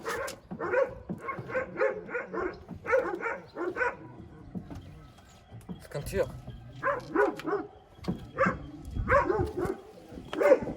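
A dog barks repeatedly in short bursts, mixed with a person talking nearby; the barking comes in clustered runs throughout.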